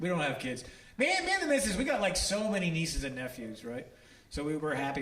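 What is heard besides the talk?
No everyday noise stands out behind the speech.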